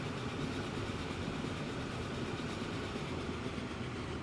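A train rolls along a challenging route in the game Transport Fever 2, a steady, even rumble and rail clatter that runs without a break, with no voices.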